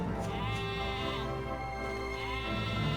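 A sheep bleats close by in a long, steady, wavering cry that fills the whole moment, with no voices over it.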